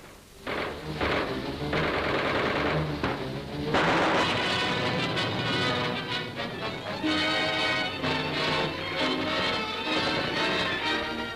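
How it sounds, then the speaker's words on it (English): Muffled World War II archival artillery fire from street fighting in Eschweiler, a run of heavy booms and crashes with a clattering, gritty old-recording texture, fairly loud and dense throughout. "the 9th Army rolls on relentlessly toward industrial Eschweiler, blasting the barricades of the German armies"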